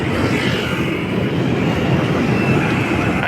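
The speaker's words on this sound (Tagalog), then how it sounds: "at dumaan yung napakagandang train ano, LRT mga bayan" An LRT 1 light-rail train passing over a bridge near MacArthur Bridge, a loud, continuous rumble and roar with faint rhythmic clatter of wheels on track, close by and steady for the whole stretch, with no talking.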